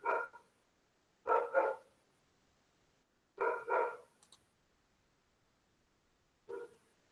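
Dogs barking in the distance in short clusters of two or three woofs, four bursts spread over several seconds with quiet gaps, faint and with no one talking over them.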